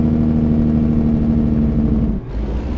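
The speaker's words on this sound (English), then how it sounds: "Listen to this retarder." A truck's engine retarder brakes with a loud, steady rumbling drone carrying a buzzing tone, close and alone, that drops off sharply near the end.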